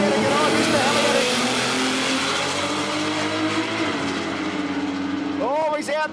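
A Datsun race car at a street drag race, its engine revving and roaring past close by with tire noise, then rising rev sweeps near the end, under a commentator talking throughout.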